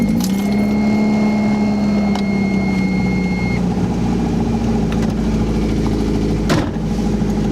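A 1991 Toyota MR2 with a turbo engine swap and a loose connection idling steadily, a close, even engine drone with a brief clunk near the end and no talking.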